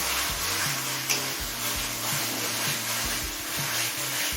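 Ginger-garlic paste sautéing in a pan, a steady soft sizzle running throughout with low rumbling and a faint scrape partway through, with no talking.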